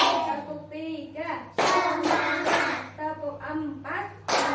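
Young children in a kindergarten class clap their hands in a counting game, bursts of sharp group claps alternating with a teacher's voice and children chanting along.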